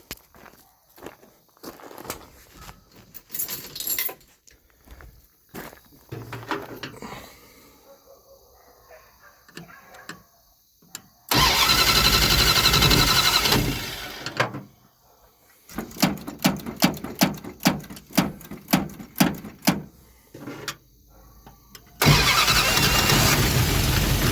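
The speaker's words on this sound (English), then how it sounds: "Let's crank it over and try it, see if it starts." An engine fitted with a Thermoquad carburetor, its mixture screws set at two turns, cranks and catches into loud running, then cuts out and restarts after scattered clunks and footsteps in a quiet workshop.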